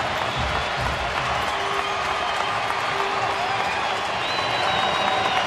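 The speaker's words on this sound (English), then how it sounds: "The crowd on its feet." A baseball stadium crowd in Oakland stands and cheers during an at-bat in a 2011 Chicago White Sox at Oakland game, making a dense, unbroken roar of cheering and clapping that fills the whole stretch.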